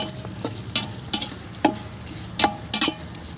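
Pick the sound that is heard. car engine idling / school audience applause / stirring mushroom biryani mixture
stirring mushroom biryani mixture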